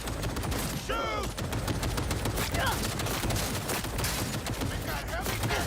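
Gunfire in the video game Cyberpunk 2077 comes as loud, dense rapid bursts of shots and clatter that continue throughout, with brief whooshing effects layered over the firefight.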